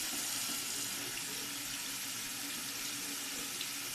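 Hot water runs steadily from a tap in a freshly finished home, a constant close hiss and splash with no talking over it.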